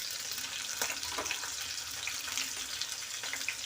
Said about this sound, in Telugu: నూనె వేడికిన తర్వాత పచ్చిమిర్చి ముక్కలు వేయాలండి.